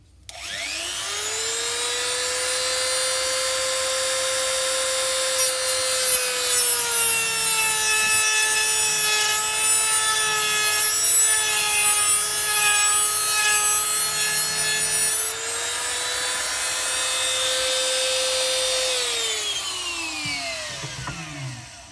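A Dremel rotary tool grinds through a revolver part in one long, loud, steady whine that holds its pitch for about twenty seconds, then winds down near the end.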